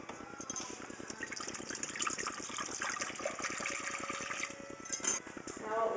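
Water poured into a container set on high heat, a steady gushing fill under quiet talk, fairly close and continuous for several seconds.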